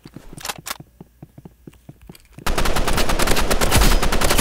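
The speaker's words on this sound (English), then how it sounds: "I missed all those shots right there." Gunfire in the Roblox Rivals video game: a few scattered sharp shots at first, then about two seconds of loud, dense rapid automatic fire that runs to the end.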